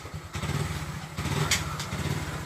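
Hero Glamour BS4 motorcycle engine running steadily just after starting, a close, continuous low idling thrum with light mechanical clatter and a couple of brief higher-pitched clicks.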